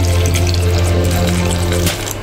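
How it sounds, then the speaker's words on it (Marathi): Water pours steadily into a cooking pot while methi vada batter is being prepared, a continuous close splashing stream that cuts off near the end. "पाणी घालायचे"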